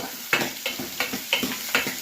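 Small onions, about twenty-five shallots, sauté in a pan with a constant light sizzle. Five sharp scraping stirs land at roughly even intervals, close and clear, with no talking.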